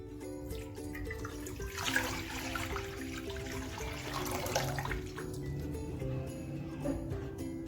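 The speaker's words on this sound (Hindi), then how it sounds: "अब इसमें मैंने 2 किलो पानी डालना है।" Two kilos of water poured into a cooking pan on a stove, a steady splashing pour running continuously at close range with no talk.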